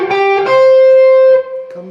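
A short distorted electric guitar lick from a song, with a bent note swelling into a sustained held tone, then fading into a quick following phrase, played close and loud.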